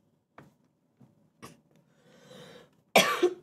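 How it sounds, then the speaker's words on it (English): A person who is under the weather gives a few quiet separate coughs and throat noises, then one louder, harsher cough near the end, all close up with no talk. "Sorry if I cough a lot."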